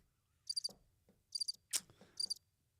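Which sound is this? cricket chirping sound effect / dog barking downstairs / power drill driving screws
cricket chirping sound effect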